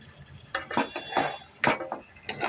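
Metal pot and spoon clatter while meat is being sautéed, a few irregular scraping clinks and knocks spread across the moment, close and moderately loud.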